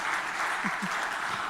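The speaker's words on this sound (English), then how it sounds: "Clap, I think." An audience at a KPMG-UNDP post-budget event applauds, a steady, even wash of clapping throughout the short moment, with a couple of brief low sounds in the middle.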